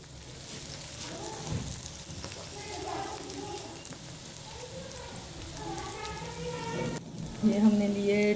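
Food sizzles steadily in a pan, sautéed as the base for stuffed capsicum, a soft continuous frying hiss under faint background sounds and brief clinks.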